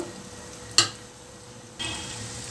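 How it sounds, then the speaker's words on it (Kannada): Bonda batter flavoured with mint and curry leaves dropped into hot oil: a sharp splash is followed by a soft, steady sizzle that swells again as another portion goes in, with no talking. "ನೋಡಿ, ಎಣ್ಣೆ ಕಾದಿದೆ. ಈಗ ಯಾವ ಸೈಜ್ ಬೇಕೋ ಆ ಸೈಜು ಬೋಂಡ ಬಿಡ್ತಾ ಬರಬೇಕು."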